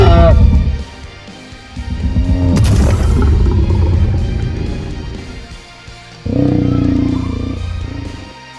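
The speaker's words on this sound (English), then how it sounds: "And the roars, let's hear if they changed." A creature in the video game Creatures of Sonaria gives loud, deep roars: one short burst, then a long rumbling bellow lasting several seconds, and after a pause a third roar begins.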